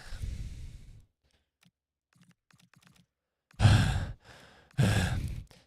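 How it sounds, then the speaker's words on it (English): Close breathing into a microphone, with one long exhale at the start, then two loud heavy sighing breaths near the end, separated by quiet clicks and near silence. "Stop breathing into the mic."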